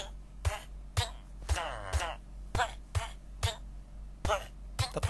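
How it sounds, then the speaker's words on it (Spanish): A Minecraft character coughs and chokes in repeated harsh bursts while suffocating in gravel, with a gurgling, rasping stretch in the middle, set over a steady low electronic hum. "Está tosiendo, se está ahogando"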